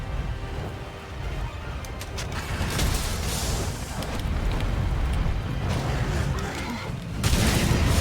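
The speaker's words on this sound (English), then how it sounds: "Yeah, nice explosion." A rumbling explosion in the video game Monster Hunter World during a Master Rank fight with the elder dragon Kushala Daora, heard as a broad, roaring wash of sound with a louder burst near the end, mixed with game effects.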